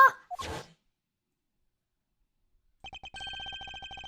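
A telephone rings in the Ace Attorney Investigations video game, a rapid electronic trill that starts after a brief sigh-like sound and a pause of silence, clear and alone.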